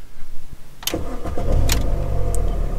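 An old Mini's engine cranks and fires into life, then settles into a steady, loud idle close by, with no talking.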